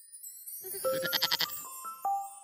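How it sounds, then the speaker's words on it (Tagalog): A goat wearing a crown of flowers bleats once in a short wavering cry, followed by light chiming tones in a storybook setting. "Aba, isang kambing na may koronang bulaklak?"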